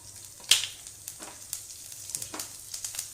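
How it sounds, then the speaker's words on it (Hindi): Cumin seeds and curry leaves sizzling in hot ghee, a quiet steady crackle with sharp popping spurts, one loud spit near the start, close and alone. "घी में हम जीरा गरम कर लेते हैं। थोड़ा सा जीरा तड़कने लगे, इसके बाद देखिए इसमें हम ये करी पत्ता डाल देते हैं"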